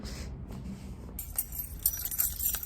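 Keys jangle close by with bright, irregular metallic chinks that grow busier toward the end, over a low background rumble.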